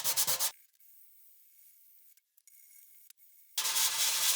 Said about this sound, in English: Don't sand with a lot of pressure on an area like this.